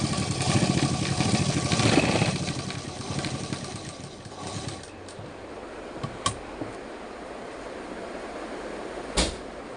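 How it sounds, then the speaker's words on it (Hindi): A sewing machine stitches a palazzo in a continuous, fairly loud whirring run that eases off partway through, followed by quieter handling noises and a couple of sharp clicks. "तो हम आपको सिलाई लगा के बताते हैं कुछ इस तरह से।"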